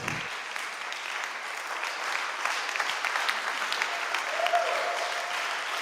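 A church congregation at a Sunday service applauds steadily, a broad, sustained wash of clapping from many hands that swells slightly and holds for several seconds with no talk over it.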